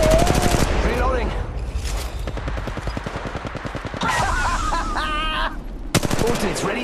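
Rapid automatic gunfire from a firefight in the mobile battle royale game Apex Legends Mobile, loud bursts of repeated shots with short pauses between them, mixed with game sound effects and interface chimes.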